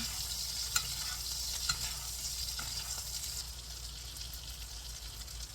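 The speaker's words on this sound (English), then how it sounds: "just baste some of that beautiful butter onto it" Butter browning around a steak in a hot pan while it is basted, a steady hissing sizzle with a few light spoon taps against the pan, fairly quiet and without talk.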